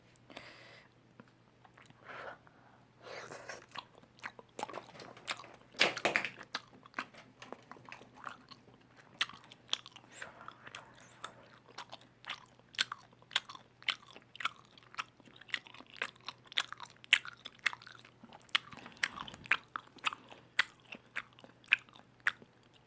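Close, crunchy bites and steady chewing of Shinjeon tteokbokki, Korean spicy rice cakes, with repeated sharp mouth clicks and smacks over a quiet background and no talking.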